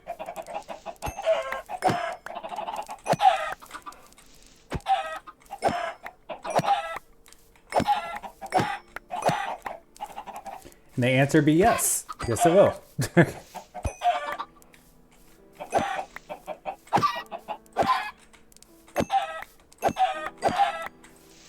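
Chickens in the Minecraft modpack All The Mods 10 cluck repeatedly in short bursts throughout, overlapping one another, while a person talks briefly in between.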